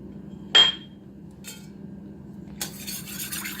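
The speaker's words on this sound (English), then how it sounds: "mix well" A spoon clinks once against a bowl, then scrapes steadily through a corn flour and milk mixture for muhallabia, close and fairly quiet.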